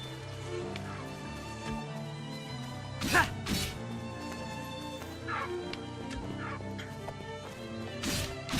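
Chicken-like squawks and gobbling bursts from enemy chickens in the video game The Adventures of Elliot, a few sharp calls standing out over steady game music, with no talk.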